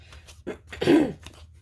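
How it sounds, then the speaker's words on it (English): A single close throat clearing, a couple of short rasping bursts followed by a stronger guttural hack, in an otherwise quiet room. "sorry, had to clear my throat"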